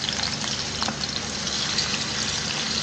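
Mushroom basdirma frying in not-too-hot oil, a steady soft sizzle and crackle that runs evenly throughout at low volume with no voices.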